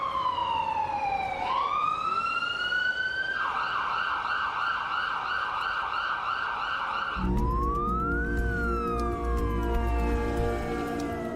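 Emergency sirens from fire brigade and ambulance vehicles in Kyiv after a missile attack: loud, continuous wailing that sweeps up and down, shifts to a rapid yelp pattern, then changes to another wail over heavy engine rumble and street noise.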